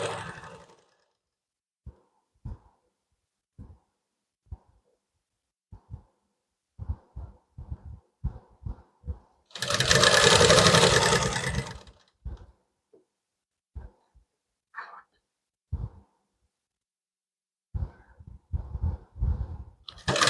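A sewing machine stitching folded piping onto a blouse neck runs in one short, dense burst of about two seconds, surrounded by scattered light clicks and handling taps in an otherwise quiet room.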